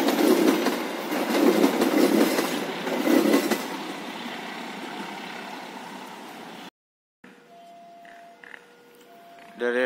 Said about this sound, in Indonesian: Kereta api Joglo Semarkerto telah diberangkatkan dari stasiun Kutarjo.